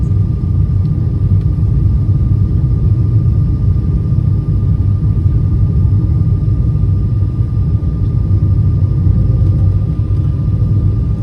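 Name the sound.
airplane landing in London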